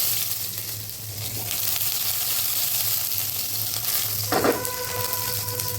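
Chopped onion and garlic fry steadily in hot oil, a constant close sizzle with a low hum underneath and a brief clatter of stirring near the end.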